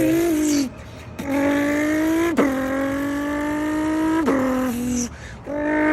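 A man imitates a Nissan GTR engine with his mouth, buzzing tonal revs that climb in pitch, drop sharply as if shifting gears, then climb again, loud and close.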